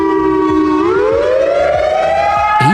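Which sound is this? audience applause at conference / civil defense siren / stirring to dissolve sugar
civil defense siren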